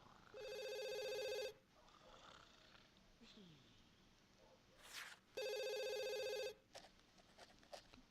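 A telephone rings in The Sims game, two long electronic trilling bursts separated by a pause filled with quiet game sounds and faint chirps, fairly soft overall.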